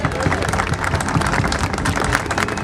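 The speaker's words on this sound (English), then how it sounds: "would you please give him a big round of applause" Crowd applauding at an Irish festival parade in Manchester, dense and fairly loud clapping mixed with background crowd noise.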